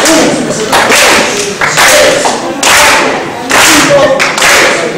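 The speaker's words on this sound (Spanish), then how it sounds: "vamos a contar palmas, contando de 1 hasta 6" A lecture audience claps together in unison while counting, loud sharp bursts of many hands landing roughly once per second in a regular beat. Voices are faintly present beneath the claps.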